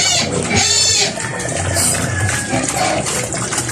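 A sow drinks noisily from water mixed with her feed on a pig farm, giving close, wet slurping and splashing with snuffling, irregular and loud throughout.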